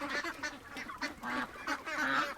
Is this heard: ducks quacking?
yes